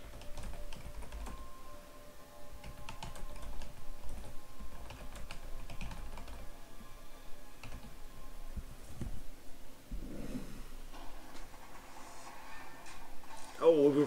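Computer keyboard typing runs steadily through the clip while a livestreamer types in a chat during a mobile game stream, with soft irregular key clicks close to the microphone and light background sounds.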